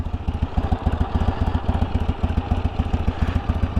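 A 1973 Harley-Davidson Sportster idles close by, its engine thumping in a loping, uneven rhythm with no voices over it.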